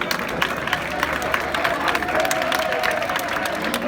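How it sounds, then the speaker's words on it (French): Crowd applause for the Koungheul Commune school team at an outdoor walking event, steady dense clapping mixed with cheering and background chatter. "Applaudissez pour Koungheul Commune"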